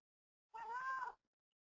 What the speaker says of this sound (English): my cat decided just now to jump up on my desk